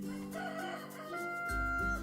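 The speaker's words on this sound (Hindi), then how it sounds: "और दरवाजे के पीछे है मुर्गा। चिकन।" A toy barn's rooster sound plays a cock-a-doodle-doo crow once, about two seconds long, clear and close.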